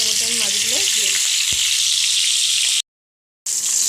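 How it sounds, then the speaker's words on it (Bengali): Fish pieces fry in hot oil with a loud, dense, continuous sizzle close by, plus a brief tonal sound at the start and a short clean cut of silence near the end. "তেল গরম হয়ে গেছে, এর মধ্যে আমি মাছগুলো দিয়ে দিচ্ছি।"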